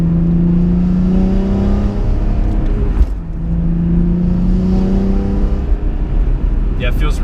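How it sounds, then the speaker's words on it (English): A 2004 BMW M3 engine revving and falling back while driving, with a steady loud drone rising and dipping in pitch across two pulls, close and continuous, with road noise underneath. "The revs drop decently quick, even though the flywheel is surprisingly heavy."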